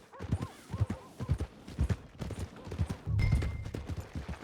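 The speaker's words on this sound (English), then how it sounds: "go sell that big brute and buy yourself a horse" Horse hooves clip-clop steadily at a walking pace in the Red Dead Redemption 2 video game, near and fairly loud, with a heavier burst of rumbling movement toward the end.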